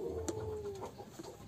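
A racing pigeon gives a soft, low coo that slides downward, followed by a few faint murmuring notes, quiet and close against a hushed background.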